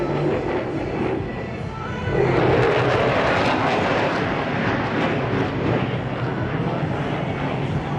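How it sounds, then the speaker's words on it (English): An F-15SG fighter jet roars overhead during solo manoeuvres at the 2020 Singapore Airshow, a broad continuous engine rumble that swells after a couple of seconds and holds loud to the end. "We have some solo manoeuvres from the F-15 SG to start the show."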